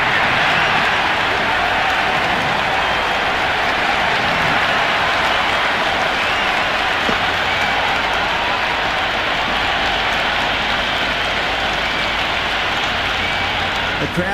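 A stadium crowd roars in the Cricket 26 video game during an IPL match between Punjab Kings and Delhi Capitals, a constant loud wash of cheering and clapping sustained for about fourteen seconds.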